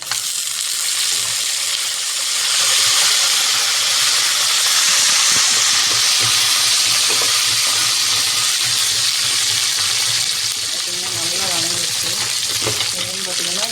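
Dried red chillies and curry leaves fry in hot oil for lemon rice, a loud, continuous close sizzle and hiss with faint stirring clicks near the end.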